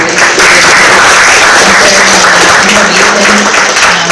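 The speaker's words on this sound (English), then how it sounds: "we want to give them a round of applause" Loud, sustained applause from an audience for panelists, a thick continuous roar of clapping close to the microphone with a faint voice beneath it.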